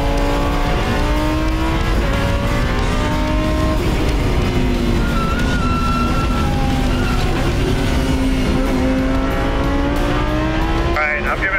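A supercar's engine revving hard on a race track, a loud sustained roar with rising and falling pitch sweeps as the throttle opens, close and dominant throughout with voices mixed in.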